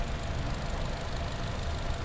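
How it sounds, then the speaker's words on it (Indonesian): A 2022 Toyota Innova Reborn 2.0 V Matic engine idles with a steady, dense, even rumble and faint ticking, close by and continuous with no talk over it. "kita dengerin dulu suara mesinnya. Ya, masih normal."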